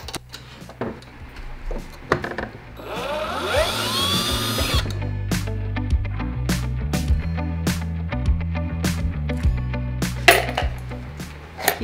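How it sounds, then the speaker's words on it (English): A power drill whirs in short bursts, removing metal hardware from a wooden desk, with a longer whining run early on and clinks of metal hardware between bursts. "Now I'm going to take my drill and remove all of the hardware."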